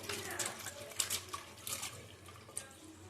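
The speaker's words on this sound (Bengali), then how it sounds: "ডাঁটাগুলি একটু গরম জল দিয়ে নুন হলুদ দিয়ে ভালো করে ধুয়ে নিচ্ছি" Pumpkin stalks being washed by hand in warm water with salt and turmeric, a close, soft splashing and trickling with a few sharper drips and clinks throughout.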